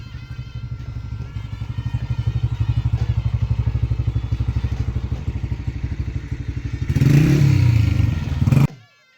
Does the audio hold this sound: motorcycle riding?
yes